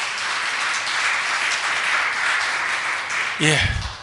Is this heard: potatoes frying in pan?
no